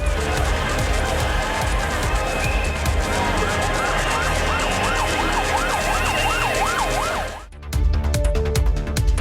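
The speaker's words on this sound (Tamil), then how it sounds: "ஆம்புலன்ஸ்களின் அலறல்களும் கேட்ட வண்ணம் இருந்தது." An ambulance siren wails at a crowded Tamil Nadu election campaign rally, its loud rising-and-falling warble over dense crowd noise before cutting off abruptly, with the crowd din then resuming.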